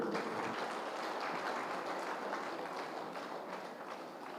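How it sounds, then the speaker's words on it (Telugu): An audience at a pyramid spiritual society's first anniversary event in Vizag claps steadily throughout, a dense wash of applause that fades slightly toward the end. "మోహన్ గారిని కూడా గట్టి క్లాప్స్ అండి."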